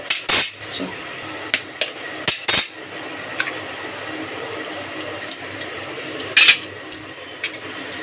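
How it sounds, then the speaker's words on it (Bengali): Eggs being cracked into a bowl holding chopped tomato and green chili, a series of sharp taps and clinks at irregular intervals, a few louder knocks early and lighter ticks later. "এর মধ্যে ডিমগুলো ফাটিয়ে দিয়ে দেবো।"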